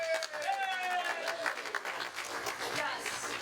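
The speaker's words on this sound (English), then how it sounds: "Yes, please applaud her incredible paranormal powers." Audience at a Veterans Day comedy show at an improv club breaks into steady applause, a dense wash of clapping with some cheering that carries on for several seconds as a voice talks over it.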